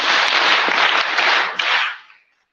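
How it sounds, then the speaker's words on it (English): Students at a senior high school orientation for first-year students break into loud, dense clapping that stays full for about two seconds and then cuts off abruptly. "Clap for her."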